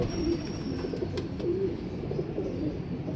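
A golden female pigeon gives soft, low cooing calls in a few short repeated bursts, close by, over faint steady background noise.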